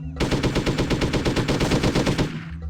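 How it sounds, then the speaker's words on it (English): Rapid automatic gunfire in Hitman: Codename 47, aimed at a bomb, a loud, close burst of evenly spaced shots that runs for over two seconds and then cuts off sharply. "Well, I'm shooting at the bomb."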